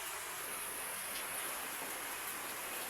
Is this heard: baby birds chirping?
no